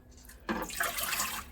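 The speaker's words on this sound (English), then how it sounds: "1 1/4 cups of warm water" Warm water splashes into a measuring cup in a kitchen, starting after a short quiet moment and then running as a steady nearby pour with no speech.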